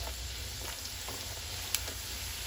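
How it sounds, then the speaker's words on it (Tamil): Chola poori frying in hot oil while being pressed down, a steady close sizzle and bubbling hiss with faint stirring clicks and one brief sharp tick, no voices. "எண்ணெயில் போட்டு நல்லா அமுக்கி விட்டுட்டே இருந்தால்"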